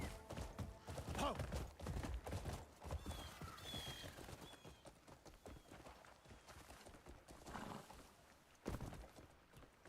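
Horse hooves clip-clopping in a video game, a busy run of hoof beats mixed with other game noises and a possible whinny, moderately loud and continuous.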